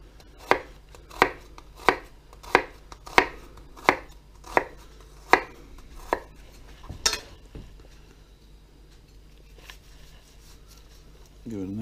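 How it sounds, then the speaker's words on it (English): A knife chops through an onion on a cutting board for guacamole, striking about ten crisp, evenly spaced knocks close up before the chopping trails off into quiet handling. "you'll be able to chop onions without crying your eyes out"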